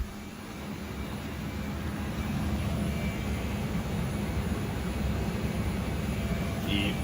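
A VRF air-conditioning unit blows air in a steady, broad, moderately loud rush that holds constant throughout, with no talking.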